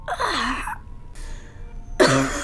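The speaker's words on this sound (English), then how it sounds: "Stop coughing." Someone coughs repeatedly, with rough throat-clearing bursts in two clusters separated by a short quiet gap, close and loud, without talk.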